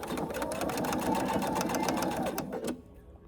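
A sewing machine back stitching a small fabric mini wallet: a steady, rapid, close needle chatter running for nearly three seconds, then stopping abruptly, with faint talk underneath.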